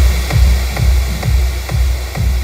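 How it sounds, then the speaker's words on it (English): An FL Studio kick drum layered with a white noise sweep, the steady thumping kicks falling about every half second under a continuous hiss, loud and alone. "So now I have my kick and my sweep."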